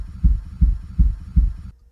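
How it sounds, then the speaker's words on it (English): Recorded kick drum sample triggered in a software sampler, four punchy low thumps in an even rhythm about a third of a second apart, each with a short decay, then silence. "It sounds like the best kick drum that I have recorded here"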